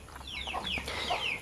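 Free-range village chickens, kept in small coops in a home yard, cluck and chirp in quick overlapping calls at close range, fairly soft and with no talk.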